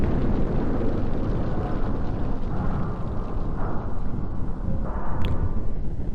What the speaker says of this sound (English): Dramatic close-up to an explosion.